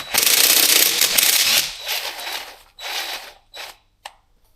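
A ratchet loosens a connecting rod bearing cap bolt on a Mercedes CLK engine, a burst of rapid clicking followed by shorter, spaced ratcheting strokes that fade to a last click, close by with no talking.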